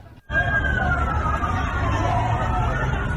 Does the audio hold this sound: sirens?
yes